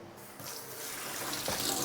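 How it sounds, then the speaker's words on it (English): Kitchen sink tap turns on and runs cold water, a quick rising gush that settles into a steady splashing stream into the basin. "on the other wall we have our kitchen sink, which has running cold water"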